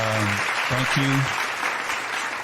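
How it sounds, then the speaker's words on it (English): Audience applause at a community speaking event in the Delta, a dense steady patter of clapping filling the room, with a voice speaking briefly at the start. "Let's give her a round of applause."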